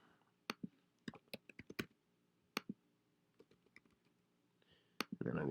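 Keys on a computer keyboard tap in sparse, irregular clusters, quiet and close, with gaps of near silence between keystrokes and a short burst of rustling noise at the end.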